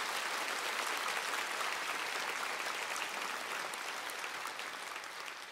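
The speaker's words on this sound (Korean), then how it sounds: "우리 박수로 우리 축하하겠습니다." A church congregation applauds the discipleship trainees, a broad wash of many hands clapping at moderate distance, steady and sustained, slowly tapering off.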